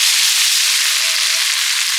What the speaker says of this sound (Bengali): ডালটা দিয়ে দিলাম